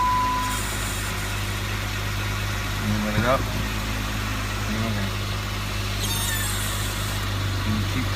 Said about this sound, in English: You start up the vehicle